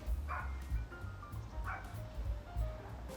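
A dog barks outdoors in two short bursts of yips and bow-wows, mid-distance over steady low background rumble.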